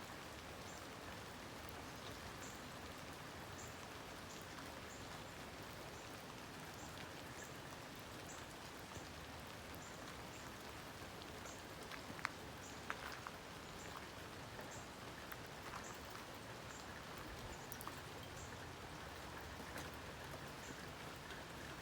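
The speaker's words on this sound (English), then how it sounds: "We both out here in the rain." Steady rain falls outdoors as a constant, even wash of drops hitting the ground, with a few sharper taps standing out, continuous for the whole stretch and no voices over it.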